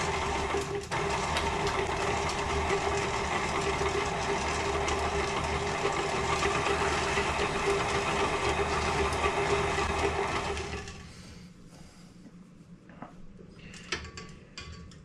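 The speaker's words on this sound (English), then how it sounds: "And I'm using a paddle on the mixer." A stand mixer with a paddle attachment churns pasty dough with lard, a steady whirring motor hum with rhythmic mechanical ticking, close and constant for about ten seconds before winding down to quieter clinks.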